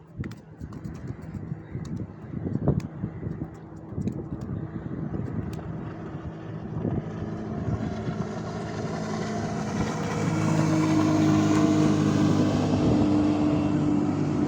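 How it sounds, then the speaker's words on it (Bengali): Outdoors on a river, a passenger launch boat approaches with a low engine drone that swells steadily louder toward the end, beneath a mix of ambient outdoor sound. "এই যে লঞ্চ যাইতেছে, দেখতে পারতেছেন কিনা"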